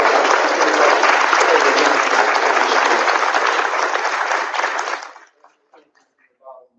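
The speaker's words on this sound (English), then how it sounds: "Please give them a round of applause" Applause at a school board meeting honours volleyball officials: a dense, loud wave of clapping for about five seconds, then it cuts off abruptly, leaving near silence with a couple of faint sounds.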